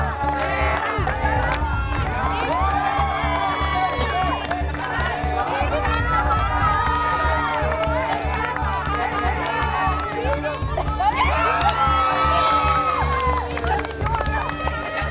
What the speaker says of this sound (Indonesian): Padahal kita udah teriak-teriak loh ini.